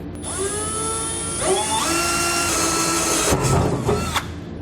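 A 3.5 inch hole saw on a power drill cuts out a hole during an underbed fifth wheel hitch install: a loud, whining grind that spins up, pauses and restarts several times, close and without speech.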